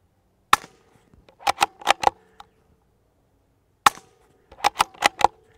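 Suppressed .22 rifle shots through a full titanium KGMade Swarm 22 modular silencer, fired into a hard clay berm: two quick volleys of sharp cracks, a single shot then four in rapid succession, repeated, each with a short impact snap.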